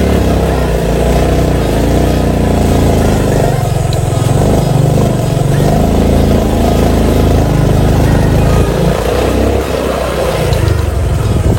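A Honda XRM 125 fi motorcycle engine labors steadily uphill on a rough mountain ride, with a continuous, loud mid-pitched drone and slight throttle variations, heard up close with no talking.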